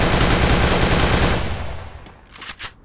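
Rapid automatic gunfire from a video game shooter, a loud continuous burst that cuts off partway through, followed by a couple of fainter shots and faint effects.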